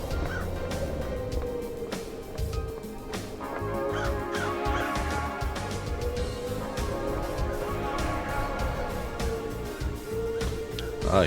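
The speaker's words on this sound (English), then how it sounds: "here are all the crows" Crows cawing in the video game Paradise Killer, a busy flock calling repeatedly over a steady, dense ambient game soundscape.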